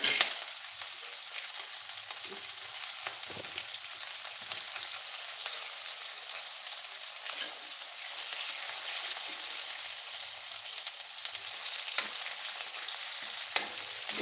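Roughly chopped onion shallow frying in oil in a pan over a low flame, a steady close hiss of sizzling with occasional crackles and faint spoon scrapes throughout.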